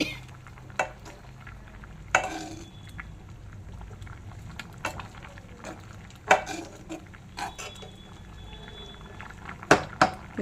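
Semiya (vermicelli) cooking in water in a pot, a soft steady bubbling simmer with intermittent clinks and scraping stirs, close but fairly quiet, no talking.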